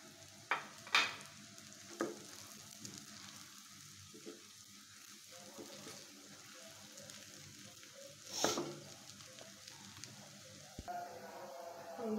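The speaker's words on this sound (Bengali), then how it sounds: "এখন আমি এটার ভিতরে নুডলস যে আমি বয়েল করে রেখেছিলাম ওটাই দিয়ে দিচ্ছি।" Boiled noodles dropped onto fried chicken, potato and egg in a pan produce a quiet frying sizzle, broken by a few sharp utensil knocks and scrapes, close but low in level.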